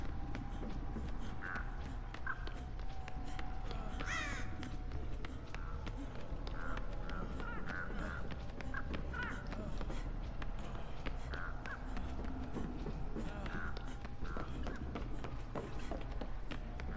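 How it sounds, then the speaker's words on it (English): In a video game, crows caw repeatedly in short, harsh bursts, scattered irregularly through a dense, noisy background of game ambience and rustling. "Stupid crows."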